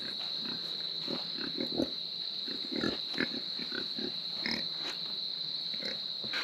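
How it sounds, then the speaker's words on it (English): Pigs on a homestead snort and grunt in short, irregular bursts, fairly quiet and close, over a constant high-pitched background hiss with no talking. "A little bit of snorting."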